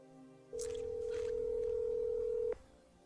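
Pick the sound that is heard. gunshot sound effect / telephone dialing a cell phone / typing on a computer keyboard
telephone dialing a cell phone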